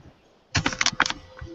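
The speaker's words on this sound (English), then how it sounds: "I know I'm here, but I'm typing." Typing on a computer keyboard, a quick cluster of several close key clicks over about half a second, alone with no talk.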